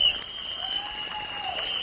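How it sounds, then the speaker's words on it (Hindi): Applause from a seated audience welcoming a speaker onto the stage at a Vestige business event in Hyderabad, a steady wash of clapping lasting a couple of seconds at moderate level, with a faint tone running beneath it. "जोरदार तालियां मोहम्मद सलीम सर के लिए"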